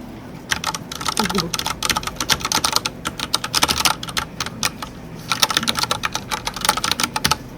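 Typing on a mechanical keyboard with brown switches in a Seoul game-developer office, steady bursts of rapid close keystrokes with a short pause midway, a quiet voice faintly underneath.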